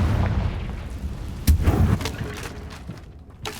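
A Confringo fire spell exploding in a video game: a low rumbling bed with a sudden thudding boom partway through, then a fading rumble and a smaller thump near the end.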